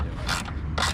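Clamp being tightened on an MST air intake kit fitted to a BMW F30 330e, two quick close ratcheting clicks in one second, alone with no talk.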